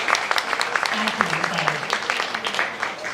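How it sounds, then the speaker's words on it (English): Keynote audience at an influencer fair applauds, a dense burst of hand claps filling a large hall while someone speaks briefly over it. "So let's give them a big round of applause."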